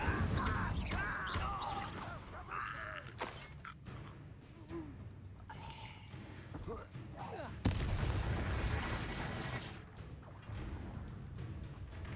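A spell being cast in a Wizarding World video game, with a burst of crackling, whooshing fire effect rising sharply in the middle and fading over several seconds beneath game sound and other clutter.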